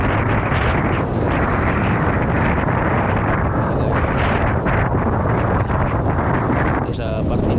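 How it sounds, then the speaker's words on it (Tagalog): Strong wind roars steadily against the microphone in a constant, heavy rumble, with a person talking underneath the gusts. "yung hangin ay talagang malakas pa rin"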